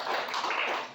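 An audience at a Cornwall diversity discussion event applauds in a brief, dense burst of clapping, close and steady for about a second.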